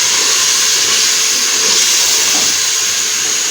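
Beef sizzling in a pot while frying for Karachi-style biryani, a steady loud hiss that continues evenly throughout with no talking.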